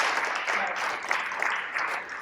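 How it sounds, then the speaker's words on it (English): A meeting audience of electric-vehicle enthusiasts gives a brief burst of applause, a dense steady patter of many hands at moderate volume with no voices standing out. "We gotta applaud that one"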